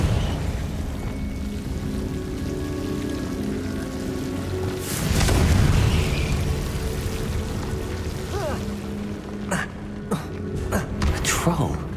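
In the Hogwarts Legacy video game, a Confringo spell explosion bursts loudly midway through a steady, rumbling game ambience, followed later by a few sharp crackling hits.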